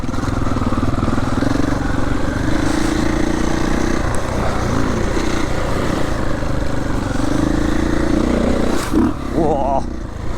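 A Triumph 450 Enduro motorcycle being ridden near Barcelona, its engine droning steadily with shifting revs and rises in pitch, loud and close, with a rider's voice talking over it.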